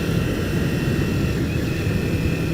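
A 2022 Kawasaki Ninja 400 KRT motorcycle rides on a mountain road, its engine a loud, steady drone mixed with heavy wind rush and a faint high whine that holds constant.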